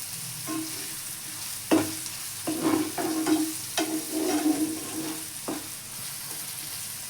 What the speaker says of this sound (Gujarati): હવે ડુંગળીને આપણે સડી જવા દઈએ